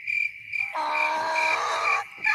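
A steady, high-pitched cricket chirp sound effect trills on and off over a couple of seconds, clear and fairly close, with no talking.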